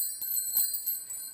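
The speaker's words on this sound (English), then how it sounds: "I've got bar chimes." Bar chimes shimmer in a quick, bright cascade of high metallic tinkles, fairly close, in a drummer's setup alongside Zildjian cymbals.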